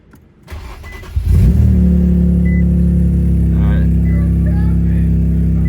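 An Infiniti Q60 engine cranks briefly and catches, then settles into a loud, steady idle with a strong low drone that continues alone.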